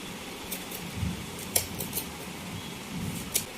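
Pumpkin and Malabar spinach (pui shak) being cut for a Bengali chorchori: a handful of sharp, quiet cutting clicks spaced a second or so apart over a low, steady room hum.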